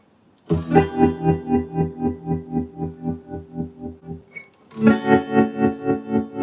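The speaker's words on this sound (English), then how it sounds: "this is a great little pedal for those cool tremolo sounds" An electric guitar through a tremolo pedal rings out with a pulsing effect, the tone swelling and dipping rhythmically, then a second strum continues the same wavering pulse.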